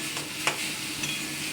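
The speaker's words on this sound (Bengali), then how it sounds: "আমি কি সুন্দর শাকটা ভেজে নিচ্ছি" Drumstick leaves frying in a blackened, scorched wok give a constant close hiss and sizzle, broken by a couple of sharp stirring clicks, no talking.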